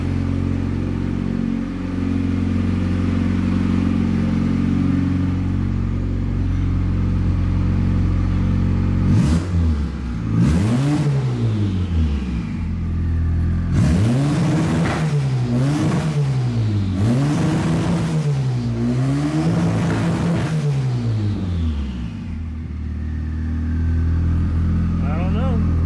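Boosted F23 Honda Accord four-cylinder engine idles steadily, then revs repeatedly in several rising and falling bursts before settling back to a loud, close idle, with brief talk over it.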